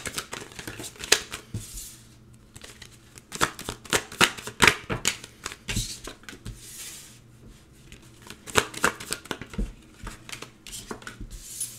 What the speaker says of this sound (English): Let's pull some tarot cards and see what we have for you.